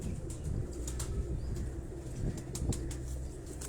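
A Sialkoti pigeon coos softly at close range while wings flap in sharp repeated bursts, set against a low background hum, no voices.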